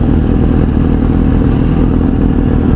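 A big bike motorcycle engine, with a Ducati Monster 937 among the bikes, rumbles loudly and steadily close by, its low throbbing drone holding without pause.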